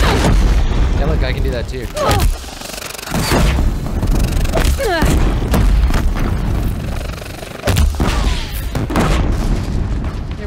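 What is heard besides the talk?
heavy weapon firing in video game Horizon Zero Dawn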